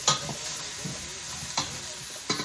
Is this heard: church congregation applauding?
no